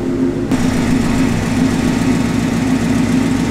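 A car engine runs close and loud in a steady, rough idle with a regular pulsing beat, and there is no speech.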